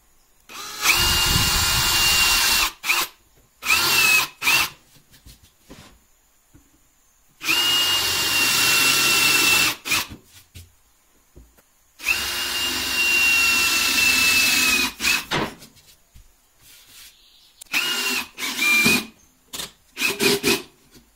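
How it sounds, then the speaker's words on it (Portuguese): A power drill driving a screw up through a wooden piece into MDF, with loud high-pitched whining bursts of a few seconds each, separated by pauses and short triggers, close up and without talking. "a gente vai entrar com o parafuso de baixo para cima. O parafuso vai rosquear da peça de madeira para a peça de MDF."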